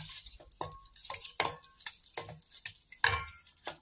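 A spoon stirs tamarind water mixed with turmeric and salt in a bowl, making light scraping clinks and soft sloshes in an uneven rhythm of about eight strokes, close and quiet.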